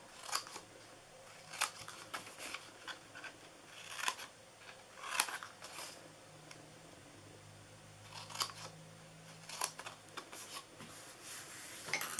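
Scissors snip through pieces for a handmade flowering gift box in a run of sharp, close cuts spaced a second or two apart, over a quiet room with a low background hum.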